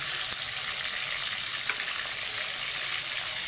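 Hilsa fish pieces frying in hot oil, a continuous bright sizzle heard up close with a couple of soft clicks as pieces are lifted out, and no speech.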